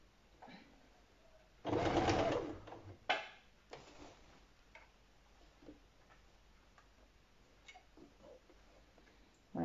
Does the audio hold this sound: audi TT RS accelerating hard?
no